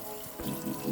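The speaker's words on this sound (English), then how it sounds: "I just really want to wash our dinner harvest right now because these zucchinis are really dirty." Dirty freshly harvested garden zucchinis rinsed under a running faucet, a steady splashing water stream with swelling gushes as the vegetables move under the flow.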